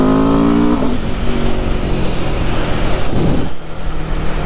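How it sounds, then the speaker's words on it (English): An Aprilia RSV4 motorcycle with stock exhaust and its exhaust valve open revs loudly and aggressively up close, the engine note climbing then dropping away to a rough, fluctuating rumble. "as you saw there with the exhaust valve open. Pretty aggressive for a stock exhaust"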